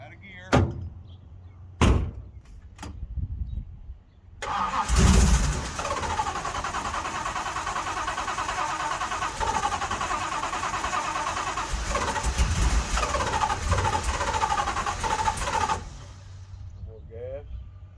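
A carbureted Dodge Charger V8 cranks and fires for the first time, settling into a loud, steady rumble that runs for about eleven seconds before cutting out, preceded by a few sharp door or hood slams, with people talking nearby.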